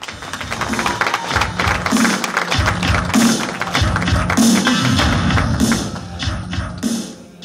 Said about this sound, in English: Give a big round of applause for Mr. Michael Menza